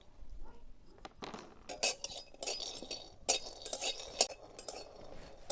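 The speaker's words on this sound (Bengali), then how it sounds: "প্রথমে শুকনো কড়াইয়ের মধ্যে চিনে বাদামগুলো ভেজে নেব কড়াইয়ে দিয়ে দেবো" Peanuts tipped into a dry iron wok on a clay stove, a scatter of sharp clinks and rattles as nuts hit and slide across the metal, close and irregular, with short pauses between bursts.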